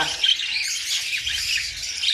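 Parakeets in a breeding cage, young hand-feeding chicks with their mother, giving close, bright squawks and quick high chirps that keep up without pause, with a low rumbling underneath.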